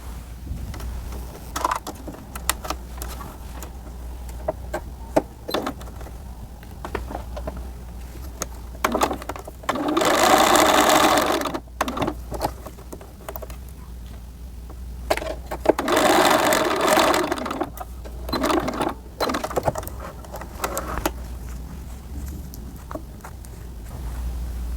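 A sewing machine stitches a small denim pocket for a doll jumpsuit, running in two longer bursts separated by quieter handling noise, close and moderately loud, with no talking.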